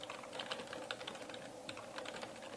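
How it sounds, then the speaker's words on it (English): Keys clatter on a computer keyboard as text is typed into a Microsoft Word 2003 document, a quick, steady run of close, soft clicks with no voices. "You can type some text over the image."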